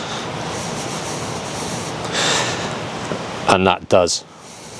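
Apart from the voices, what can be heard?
plush microfiber cloth wiping wax off a car panel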